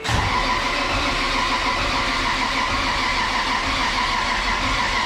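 A Camaro engine is cranked and turned over after fresh spark plugs, a new coil and a new plug wire go in, giving a steady loud mechanical churn close by with no talk.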